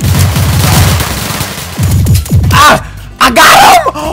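Rapid bursts of gunfire from a gun in the Roblox game Chicago Remastered, loud and close, mixed with shouting and yelling voices.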